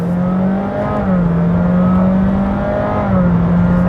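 A 2023 Honda Jazz e:HEV hybrid pulling hard at full throttle, its engine droning steadily from inside the cabin, pitch stepping up and down through simulated gear shifts in a rhythmic pattern.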